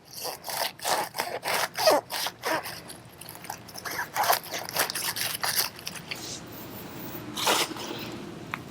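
A sharp knife cuts through a head of garden lettuce near its base, a series of close crisp crunching and rasping slices that come quickly at first, then thin out into a few scattered cuts.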